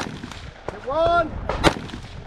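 Rifle shots fired at long-range targets ring out as a couple of sharp, distant cracks, with a brief tonal whine between them, over a quiet outdoor background.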